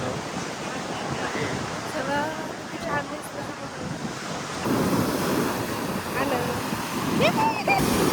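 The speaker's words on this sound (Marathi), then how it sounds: "बघ लाट." Sea waves roll and break on a Goa beach, a continuous washing surge with wind buffeting the microphone, swelling louder midway, while people talk nearby.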